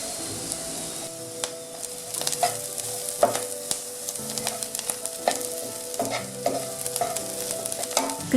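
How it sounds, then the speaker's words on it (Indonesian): Garlic sautés in a pan while a utensil stirs and scrapes it: a continuous close sizzle broken by frequent clicking taps of metal on the pan, with no voices. "Masukkan bawang putih dan tumis lagi hingga layu."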